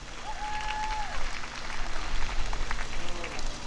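An audience applauds at a Tatar village folk festival, a dense crackle of clapping that swells and fades, with a sustained sung or spoken tone and murmuring voices over it.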